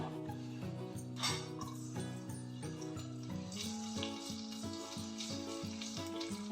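Ingredients for chilli beef sizzle in a hot pan, a soft crackling fry running the whole time beneath louder steady background music.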